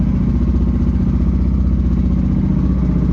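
A Yamaha NMAX Aerox with a 185cc engine runs steadily and close by in a workshop, a continuous buzzing mechanical drone with rapid pulsing and no clear rise in pitch.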